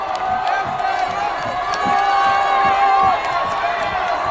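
A dense crowd of football fans cheering and shouting together in the streets of Madrid after Spain's win, a loud, continuous roar with whoops rising through it.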